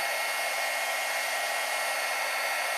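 Heat gun blowing steadily and close up over an iridescent ice craft effect, a continuous loud airy whoosh with a constant hum and no talk.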